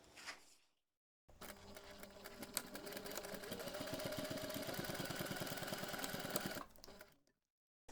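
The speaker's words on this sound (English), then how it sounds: "take this to the machine and we are going to top stitch along the top edge" A sewing machine topstitches along the folded top edge of a small fabric snap keychain pouch, running steadily for about six seconds with a dense, rapid mechanical whir and needle chatter, starting and stopping abruptly, close by with no talk.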